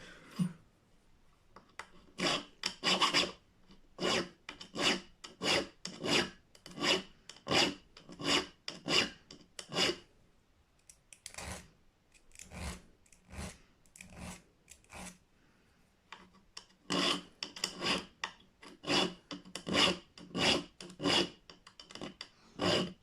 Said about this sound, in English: it's literally just filing the metal to make it cleaner